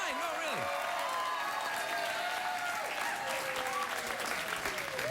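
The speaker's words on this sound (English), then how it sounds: "All that clapping and cheering" A late-night talk show studio audience claps and cheers loudly and continuously, with whoops and voices riding on top of the steady wash of clapping throughout.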